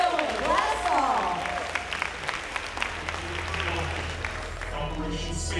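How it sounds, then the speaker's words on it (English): A church kids' club audience claps steadily while a voice speaks over the start, the applause continuing at a moderate level throughout. "So let's clap for him, and let's get going."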